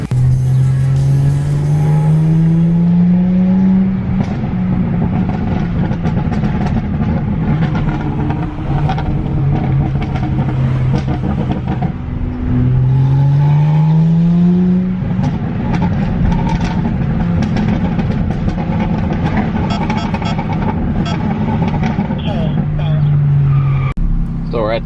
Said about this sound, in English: The car's running.